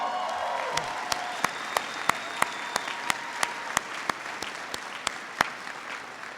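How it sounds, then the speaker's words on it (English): Audience applause at a military ceremony rolls on continuously, with a steady series of sharp, evenly spaced louder claps punctuating the crowd's clapping. "please give a big round of applause to Catherine Dennison for singing our nation"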